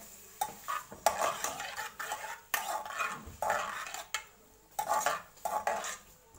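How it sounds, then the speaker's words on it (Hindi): Onions browning in a little oil for a brain masala, stirred with a spoon that scrapes and knocks against the pan in repeated close strokes over a soft sizzle. "प्याज हमारी ब्राउन हो रही है।"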